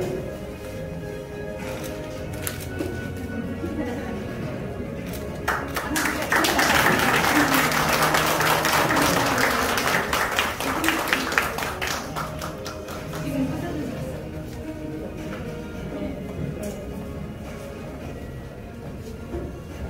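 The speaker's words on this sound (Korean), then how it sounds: "큰 박수 부탁드립니다." Audience applause for an outgoing president at a Rotary Club of Gwangju Biennale installation ceremony, scattered taps and claps swelling into a fuller burst mid-way, then tapering off into lighter sporadic clapping.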